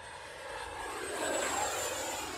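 An E-flite F-16 Falcon radio-controlled jet with an 80mm ducted fan flies at full throttle, giving a steady, loud, whooshing roar that swells slightly midway and carries on without any voices.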